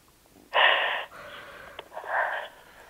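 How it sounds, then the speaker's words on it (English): Group of people in a class yawning aloud, with a long breathy exhale followed by a second, softer drawn-out yawn, close and with no talking. "Let's hear all of you yawning."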